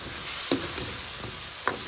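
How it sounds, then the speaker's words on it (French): Fish and greens sizzling in a frying pan while being stirred, a steady close hiss with two sharp scrapes of the utensil against the pan. "Il mélange bien comme ça."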